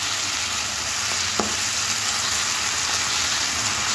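Ginger garlic paste sizzles in a pan with Kashmiri chilli powder for a cabbage curry, a close, continuous frying hiss with one brief clink partway through.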